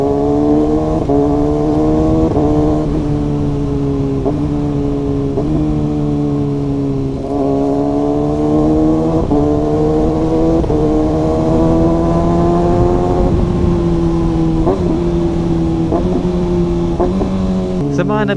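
A Kawasaki ZX6R motorcycle engine pulls hard on a ride, its loud, steady, tonal drone rising in pitch and dropping back at each gear change over about eighteen seconds.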